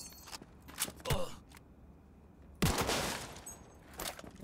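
Enemy gunfire in the video game Cyberpunk 2077 comes in a few short, sharp bursts spread across the moment, with quieter gaps of ambient game sound between the shots.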